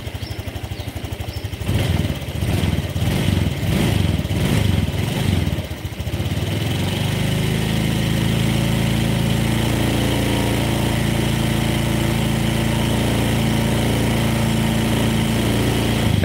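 A Honda Vario scooter engine runs close by, rough and rattling at first with rhythmic pulses, then settling into a steady, even idle hum that carries on loudly with no talk over it.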